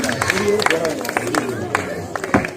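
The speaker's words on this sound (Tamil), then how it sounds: "அனைவரும் கைத்தட்டி குழந்தைகளை உற்சாகப்படுத்த வேண்டுகிறோம்" An audience at a Vacation Bible School event claps steadily to cheer on children, close and lively, mixed with crowd chatter and background talk.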